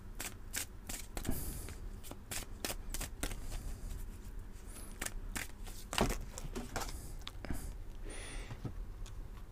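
An oracle card deck shuffled steadily for several seconds, a close, dense stream of papery flicks and soft slaps, with occasional sharper card snaps and no talking.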